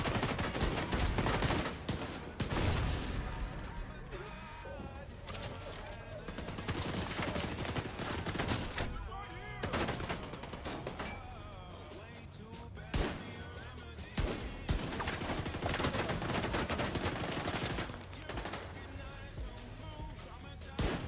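Pistol shots ring out in a first-person shooter while capturing a control point, repeated sharp cracks amid dense game music and effects, with a voice speaking over parts of the action.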